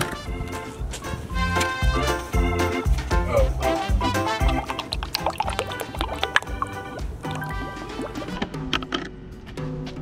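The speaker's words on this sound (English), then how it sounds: "The entire radiator is filled with oil." Engine oil glugging and splashing as it is poured into a car radiator, a bubbly, irregular liquid pouring sound running for about ten seconds, with some talk mixed in.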